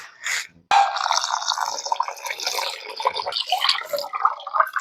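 Rice and lentils for Kathiyawadi khichdi are washed by hand in a pot of water, giving close, continuous sloshing and dripping splashes after a brief pause at the start, with no talk.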